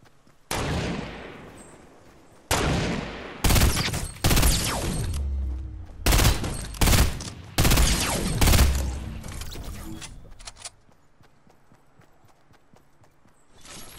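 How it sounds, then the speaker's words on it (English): A rocket launcher fires in a video game with a run of loud, sharp blasts, each launch followed by a booming impact, bunched into rapid bursts before the noise trails off into quiet. "Oh, it's rocket launcher"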